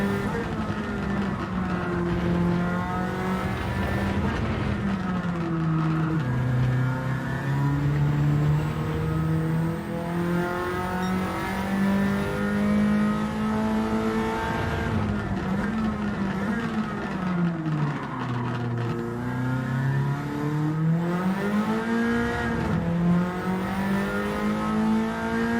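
A car engine revs in Gran Turismo 7, climbing and falling in pitch in long sweeps. The loud, continuous motor note holds alone with no talk.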